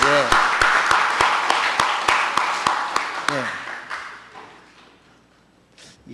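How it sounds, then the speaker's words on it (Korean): A church congregation at a Sunday Baptist service claps in a steady, evenly spaced rhythm that fades out after a few seconds, with brief voices heard at the start and middle. "우리 박수 한번 해드립시다."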